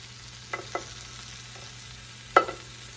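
Brussels sprouts brown in oil in a pan over medium heat, a faint, soft sizzle broken by a few sharp scraping stirs, with no talk.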